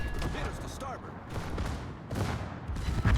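A naval gun salvo in the World of Warships video game, several heavy booming reports landing in quick succession amid a dense rumbling battle bed, with a few sharper bursts near the end.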